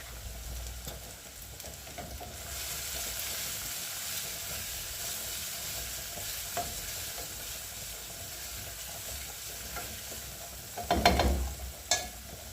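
Seasoned garlic frying in a pan for a cottage pie, giving a steady soft sizzle and hiss with a brief louder burst of sizzling and clatter near the end.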